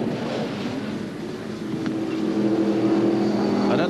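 Racing cars, including a Ford Sierra, sweep up toward Lukey Heights at Phillip Island circuit, engine drone heard from a distance rising as the pack approaches, with wind noise on the microphone.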